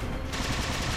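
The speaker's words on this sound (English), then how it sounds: "Stop shooting at me." Rapid automatic gunfire in the video game Halo Spartan Ops, a brief loud burst of quick repeated shots packed closely together, close and without voices.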